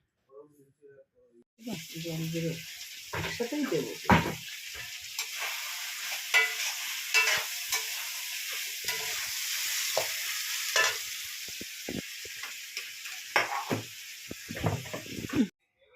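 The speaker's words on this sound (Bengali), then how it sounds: "ক্যাপসিকাম দিয়ে ভালো করে ভেজে নিচ্ছে" Chicken and capsicum sizzle loudly in a pan of hot oil while being stirred, with scraping and clattering knocks over a constant hiss; a voice talks faintly at times over the frying.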